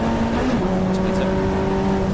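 Race cars at Silverstone, including a Mk III Mazda MX-5, roar past with engine notes sliding in pitch as they battle, loud and close under a commentator's voice.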